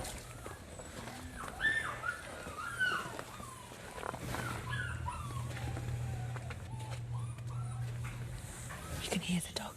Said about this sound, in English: inside I can hear whimpering